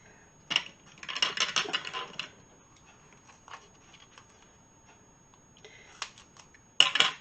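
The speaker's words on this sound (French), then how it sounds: "je prends mes vieux ciseaux pour couper" Old scissors snipping through foam in a quick burst of cuts, then a few scattered snips and light handling noises, close up.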